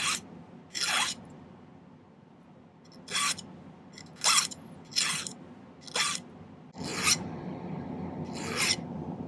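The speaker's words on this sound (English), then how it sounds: "File the whole thing to a taper." Silver stacked circle ring setting filed to a taper by hand, eight separate rasping strokes in uneven rhythm, close and clear against a quiet room hum.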